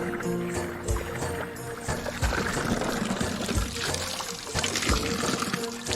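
Water runs from a tap fed by a tank at Simaldhap, Chitwan, a close gurgling pour with splashing and sloshing, steady throughout with faint outdoor background and a few low thumps.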